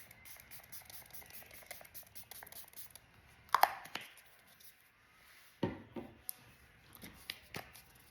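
Makeup setting spray is rattled in its bottle, then spritzed in a couple of short, soft hissing bursts, close by and with no voices.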